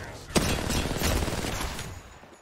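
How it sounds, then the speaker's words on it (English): Video game gunfire: a sharp close shot followed by a rapid burst of firing that trails off, loud and alone over the short moment. "Opening fire."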